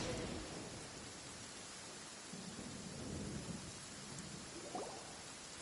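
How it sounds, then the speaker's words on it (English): Steady rain with a low thunder rumble, a soft continuous hiss and faint distant rolls under it, fairly quiet throughout with no talking. "Let us find shelter from the rain."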